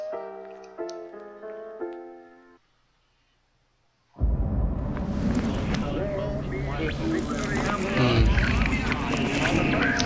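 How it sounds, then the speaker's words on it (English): A strong gust of wind sweeps through the video game Bioshock Infinite, a loud, sustained rushing roar. It bursts in after a short stretch of melodic tones and near silence, then holds steady to the end. "I wonder where that gust of wind came from."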